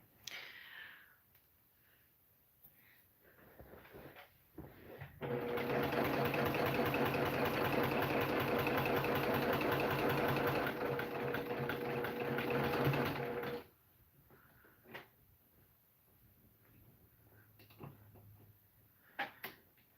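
A domestic sewing machine runs steadily for about eight seconds of free motion quilting, a loud, even mechanical whir with quieter handling and fabric rustles before and after.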